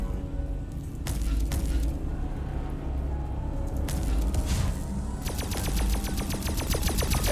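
Gunfire from a weapon in the video game Recompile: loud, rapid automatic bursts over a constant low game hum, with a dense rattling stream of shots in the final seconds.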